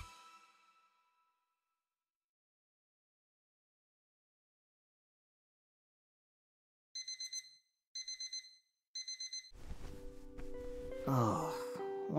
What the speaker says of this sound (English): Oh, why did I set this alarm so early?